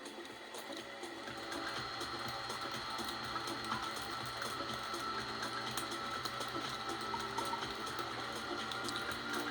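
Steady mechanical whir of an Arizer Extreme Q vaporizer's fan pushing vapor into its bag, a continuous, even drone with faint rattling texture, fairly quiet and close, with no voices.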